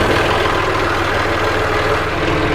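Farm tractor engine running at idle beside a no-till seed drill, a loud steady low rumble with even texture throughout and no voices over it.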